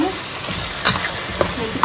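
Masala fries and sizzles in a pan for vegetable pulao, a close, steady crackling hiss with a few soft scraping stirs.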